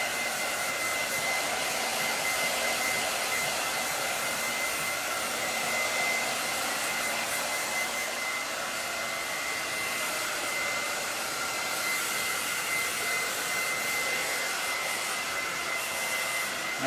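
A hair dryer blow-dries a woman's short layered haircut, a loud, steady airy roar running close and unbroken throughout with slight shifts in tone as it moves, no talking.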